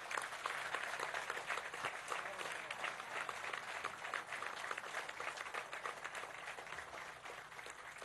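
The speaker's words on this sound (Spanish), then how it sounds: "Un aplauso a estos compañeros de compromiso." Applause from a crowd at a Venezuelan government event in Monagas honoring the heads of strategic state companies; dense, steady clapping that holds for the whole stretch without letting up.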